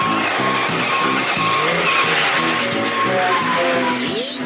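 A car chased by police races past with tires squealing and skidding, a continuous loud roar of engine and rubber with a rising screech near the end.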